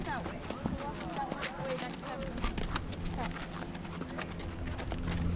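Horse hooves clip-clop in a steady walking rhythm on a trail, close and continuous, under wind and a person talking.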